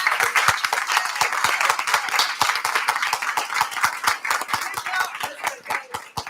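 Audience at a Union County Board of Education meeting applauding the East Union principal and his team: steady, dense clapping from a room full of people, lasting the whole stretch without speech.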